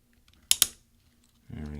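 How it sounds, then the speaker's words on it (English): A MacBook Pro key pushed off its plastic scissor hinge gives two sharp close clicks in quick succession, followed by the start of a voice. "we're going to take this key and push it to the right"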